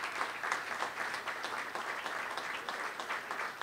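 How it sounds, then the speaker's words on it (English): A crowd at an ice rink gives a round of applause, soft and fairly distant clapping that runs evenly throughout without pause or voices. "Let's a nice round of applause for Rod Langway's made it up here."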